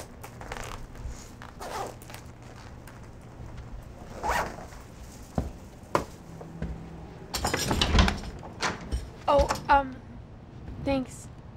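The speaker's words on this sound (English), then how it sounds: "Can you zip it up" Zipping up a shirt-like top: a zipper rasps in a few quick pulls amid rustling clothing, with people talking in a room.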